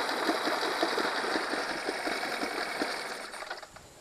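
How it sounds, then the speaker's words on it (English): A Honda 8 hp four-stroke outboard motor, suffering from ethanol fuel trouble, idles steadily in a water bucket with a continuous mid-pitched running drone that tapers slightly toward the end, with no voices. "the motor is now idling"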